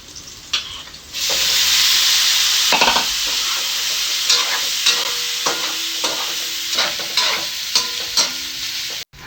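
Beef sizzles loudly as it drops into a hot pot with garlic, onion and bay leaves for kaldereta, a steady frying hiss with intermittent stirring clatter close by.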